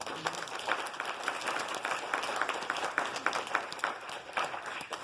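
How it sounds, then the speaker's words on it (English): Church congregation clapping hands, a moderate, fairly distant patter of many hands that keeps an even density throughout. "Would you give them a hand clap?"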